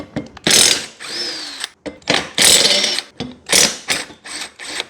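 A small impact driver removes lawn mower blades from a mower bought new 30 years ago, hammering in several loud rattling bursts with short pauses between them, close up.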